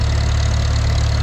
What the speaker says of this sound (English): A very nice tractor, runs beautifully